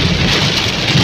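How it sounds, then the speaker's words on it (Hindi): Heavy rain pours down in a storm on a mountain road trip from Malam Jabba to Mahodand lake, a dense, loud, continuous hiss over a deep rumbling undertone, with no voices. "ये शदीद बारिश।"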